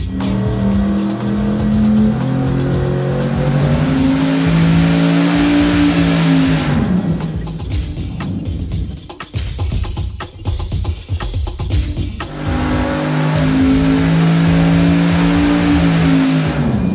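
Engine runs hard on a dyno during intercooler versus water-methanol injection testing, a loud, close, sustained roar that steps down mid-pull, drops into a rough idle for several seconds, then surges back to full power.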